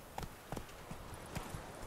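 Horse hooves in the video game The Witcher 3: Wild Hunt clip-clop in an uneven trot, a handful of hollow clops over a soft background hiss, fairly faint and with no talking.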